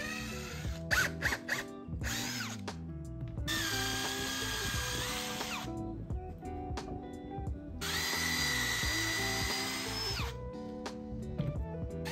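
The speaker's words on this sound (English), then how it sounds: "Remember to try to drill as straight as possible and exactly where you marked." A power drill whirs in two long bursts as it bores a dowel hole into wood for a toddler bed, separated by a pause with clicks and handling noises.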